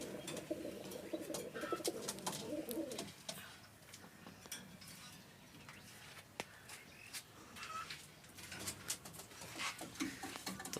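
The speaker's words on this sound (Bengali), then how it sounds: "কালারফুল কবুতর এইগুলি" Colorful fancy pigeons in a home loft cooing softly in low repeated murmurs, faint and distant, with scattered clicks, fluttering and other background bird calls.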